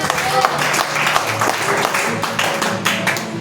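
Church congregation claps in praise during a service, a loud, steady wash of many hands with faint voices mixed in throughout.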